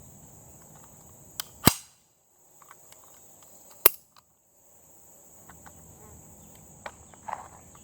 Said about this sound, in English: JHP 45 was thumping that gong at 31 yards.